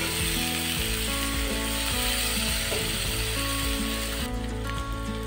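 Bean vorta mixture with salt and turmeric fries in a pan, giving a loud, continuous sizzle with rapid clicking crackle throughout and no voices.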